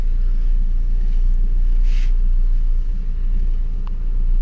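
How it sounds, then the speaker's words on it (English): A Toyota Celica 1.8 VTi 143 hp engine runs steadily with a loud, deep rumble that holds even throughout, with no voices. "You see that the car revs really nice."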